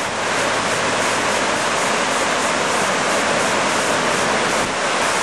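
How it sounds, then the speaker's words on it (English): Rushing water of Lepreau Falls, New Brunswick, roars in a dense, unbroken wash of noise, loud and constant throughout, heard from nearby. "Really, really nice waterfall."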